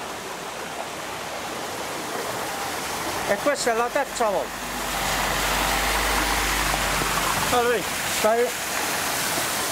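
Floodwater rushes steadily across storm-flooded farmland near a canal, a continuous broadband wash that swells louder midway, with someone talking over it in Italian in short bursts.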